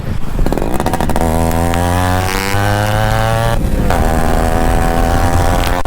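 A Yamaha RX motorcycle's exhaust revs close to the silencer, a loud, steady engine drone whose pitch rises and falls through several throttle blips with no talking.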